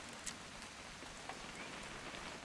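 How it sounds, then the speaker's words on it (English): Rain falls steadily in the video game What Remains of Edith Finch, a soft, even hiss of drops with a couple of slightly louder patters, quiet and continuous. "It's gonna rain the whole weekend, isn't it?"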